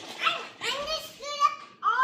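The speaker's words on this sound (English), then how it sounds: "you can hear my kids in the background talking while we're filling this with oil" Young children chatter in the background of a garage during an oil change on a 2006 Buick Rainier, several high voices talking in short bursts at moderate distance.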